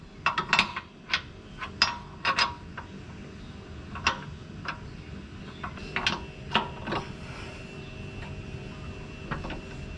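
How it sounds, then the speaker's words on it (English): A wrench works loose a tight 19 mm rear suspension bolt on the front lower control arm of a 2008 Mitsubishi Lancer, giving scattered sharp metallic clicks and ratcheting ticks in uneven bursts, close up with no talking. "the next bolt we want to loosen is the one at the back here"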